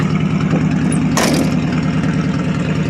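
Crusty 1985 Chevy Suburban squarebody plow truck running with only a straight pipe for exhaust after sitting a month cold: a loud, steady, rough low rumble with a brief hissing burst partway through.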